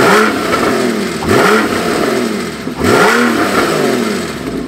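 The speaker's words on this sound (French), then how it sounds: "On va vous mettre un coup de gaz tout de suite." A Porsche 911 with a 3.4-litre engine, convertible, revved repeatedly: three rising blips of the throttle, each swelling and falling back to a rumbling idle, loud and close.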